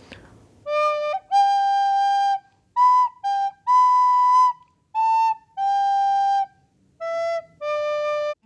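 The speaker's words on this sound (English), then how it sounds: "you think that the recorder can only sound like this" A shrill, breathy recorder plays a simple tune of separate held notes with small gaps, slightly wavering in pitch, alone and close.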